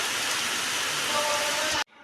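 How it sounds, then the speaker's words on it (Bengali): Heavy rain pours down steadily as a dense, loud hiss, then cuts off abruptly near the end, leaving only faint background. "বৃষ্টির কি আওয়াজ শুনতে পাচ্ছি ওরে বাপরে ভালো বৃষ্টি এসছে"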